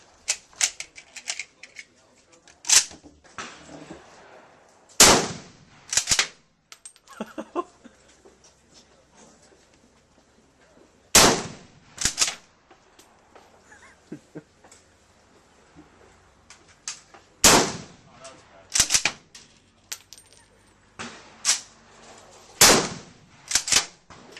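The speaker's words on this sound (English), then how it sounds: "Alright, Swiss 96/11 rifle. GP11." A Swiss 96/11 rifle fires GP11 ammunition outdoors: sharp, loud single shots spaced several seconds apart, with quieter mechanical clicks and muffled talk between them.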